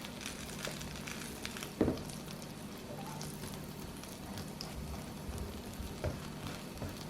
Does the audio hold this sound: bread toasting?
yes